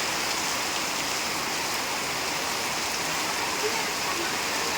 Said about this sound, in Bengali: তোমরা দেখতে পাচ্ছ কত জোরে বৃষ্টি হচ্ছে এখন এই যে দেখো টিনের ঘরে কিন্তু বৃষ্টিটা অসম্ভব সুন্দর লাগে